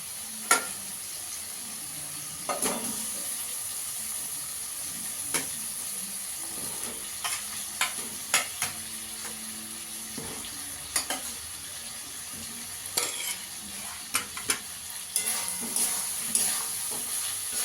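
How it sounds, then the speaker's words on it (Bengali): Potatoes fry in oil-released spice masala, a soft continuous sizzle broken by repeated sharp scrapes and clinks of a spoon stirring against the pan. "আলুটা দিয়ে ভালো করে কষিয়ে নেব।"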